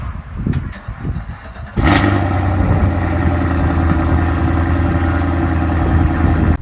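A supercharged V8 Cadillac CTS-V fires up after a brief crank and settles into a loud, deep, steady rumbling exhaust idle that continues to the end.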